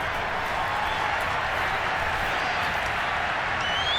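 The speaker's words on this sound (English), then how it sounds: "You can already start to hear this crowd." Dense crowd roar fills a football stadium during a Bears versus Buccaneers game, a steady loud wash of cheering and shouting that holds without a break.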